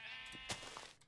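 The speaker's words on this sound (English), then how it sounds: "Wait, is that a white sheep?" A white sheep in a video game gives a close, loud bleat that wavers through about a second, with no talking over it.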